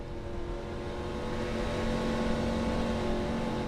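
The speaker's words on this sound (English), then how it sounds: "Hear that engine" In-car sound of a stock car engine droning at low RPM while coasting in second gear during an Xfinity race at Daytona, a steady close hum with a slight rise, no voices.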